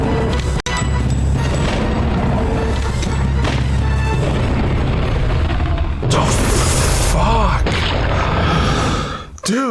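Gunfire and explosive booms in the dinosaur survival horror game Dino Crisis, loud continuous action with heavy impacts, crashes and sharp bursts over dense game sound.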